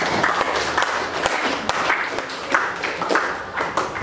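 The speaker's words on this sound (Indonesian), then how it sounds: "berikan tepuk tangan ke temannya" Classmates in a school classroom clap for a fellow student, a steady patter of hands from a small group lasting several seconds at moderate loudness, with a few sharper claps standing out.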